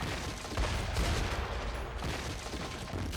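Explosions and crumbling debris during a cave-in in the video game Metaphor: ReFantazio, a dense, continuous rumbling roar with repeated booming bursts.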